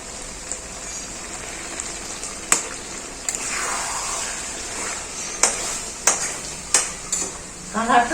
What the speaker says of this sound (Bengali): কষানো প্রায় হয়ে গেছে মোটামুটি আমি দশ বারো মিনিট মতো এটা কষিয়েছি